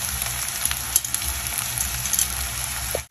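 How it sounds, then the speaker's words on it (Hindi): Chopped capsicum stir-frying in a hot pan with onion and green chilli for chilli potato, a steady bright sizzle throughout with faint stirring scrapes, close and alone. "तो अब मैं इसमें डालूंगी कैप्सिकम।"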